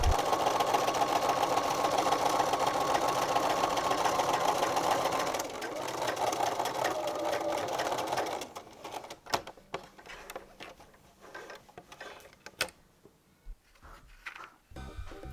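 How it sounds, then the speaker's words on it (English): Overlocker sewing machine finishing a raw fabric edge, a steady rapid mechanical whir running loud for about eight seconds, then giving way to quieter scattered clicks and handling noises. "I had overlocked the raw edge."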